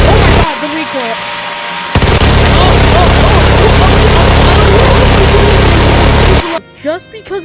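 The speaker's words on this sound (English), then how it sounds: "our next mod here is a literal minigun" A minigun modded into the virtual reality game Bonelab fires in one long, continuous, very loud roar after a short rattling spin-up, then cuts off abruptly into quieter clanks and a voice.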